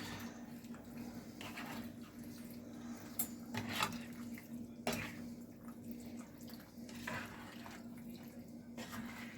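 A spatula stirs rigatoni with fresh tomatoes and basil in a pan, giving scattered soft scrapes and a few sharper clinks against the metal over a steady low kitchen hum, fairly close and moderately quiet, with no talking.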